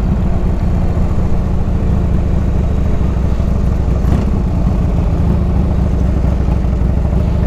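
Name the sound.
1997 Harley-Davidson Ultra Classic Evo engine running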